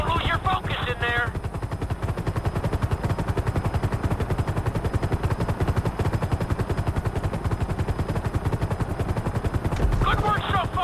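A helicopter in Grand Theft Auto V flies at full speed with its nose tipped down, a steady rapid rotor chop throbbing loud and continuous throughout, with brief bursts of voice near the start and end.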